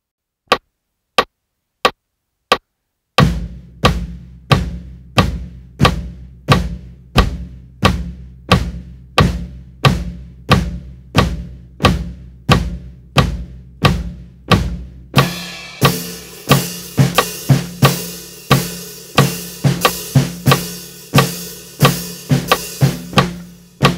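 A few sparse clicks give way to a steady drum groove, even hits alternating between a deep floor tom and a snare, later joined by cymbals.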